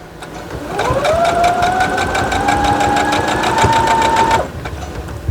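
A home sewing machine runs steadily for about three and a half seconds, stitching a nested quilt seam on a block, with a rising whir that settles into an even hum before stopping.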